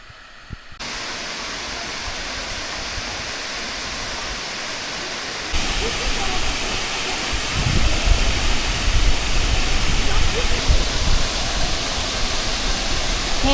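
Burgess Falls in Tennessee roaring nearby, a loud, steady broadband rush of falling water that grows even louder partway through and holds constant.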